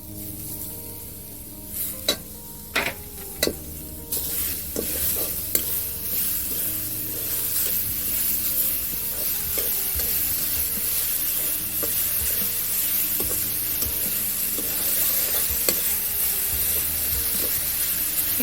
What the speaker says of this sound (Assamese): শুকানে ভাজি থোৱা এই সুজিখিনি দি দিলো। একেলগে ভাজি দিছো।